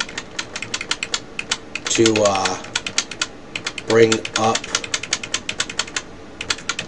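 Computer keyboard arrow keys pressed repeatedly to adjust a GeForce GTX 560 graphics card's overclock settings, a steady run of close, crisp clicks continuing under two short bursts of talk.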